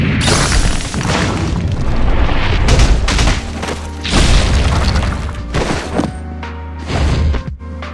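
Kanon's burst 3 skill animation in the game Outerplane: loud dense booms and crackling blasts in several heavy waves, with sharp impacts and short pauses between them.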